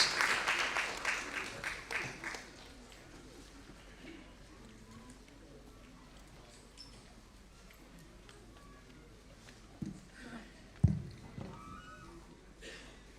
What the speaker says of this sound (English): a thunderous applause is in the order of the day